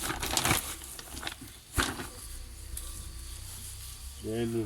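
Coco noir and hemp substrate, mixed with earthworm castings, is worked by hand, giving close crunching, rustling and crumbling scrapes in uneven bursts, with a short voice near the end.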